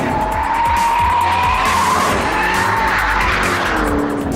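A Ford Shelby GT500 is driven hard into corners, its tires squealing and skidding over a loud, steady engine roar. The squeal rises and falls in pitch across the turn, close and intense, with no talk.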